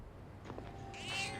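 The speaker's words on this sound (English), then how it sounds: "Cat!" A cat in Persona 3 Reload gives a couple of soft, nasal meows, the second longer and rising, close by over faint background ambience with no talk.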